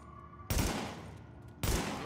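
Two bursts of rapid automatic gunfire in the video game The Division, each one loud and abrupt, the second following about a second after the first ends, with quiet game ambience between and no talk.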